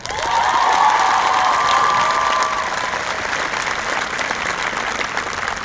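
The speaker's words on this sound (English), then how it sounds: "Everyone, would you please give a huge round of applause to Mr. O." A graduation audience gives a teacher a big, sustained round of applause, dense crowd clapping filling the hall for several seconds with light cheering and a whistle-like tone early on.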